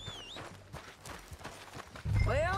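Horse hooves clip-clop in the Western video game Red Dead Redemption, a light irregular patter of hoofbeats amid game ambience, ending with a louder rumble and a rising whistle-like tone.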